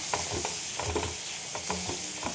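Tomato, garlic, onion and ginger fry together in a pan, a steady close sizzle broken by rhythmic stirring scrapes several times, with no voices.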